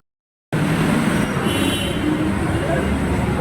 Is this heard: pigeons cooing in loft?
no